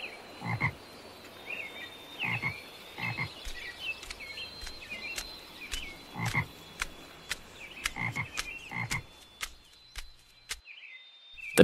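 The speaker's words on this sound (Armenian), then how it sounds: "Տնակին է մոտենում կվակվա գորտը։" A cartoon frog croaks repeatedly as it approaches a small hut in the forest, a string of sharp, fairly loud croaks in an uneven rhythm with brief pauses, alone without talk.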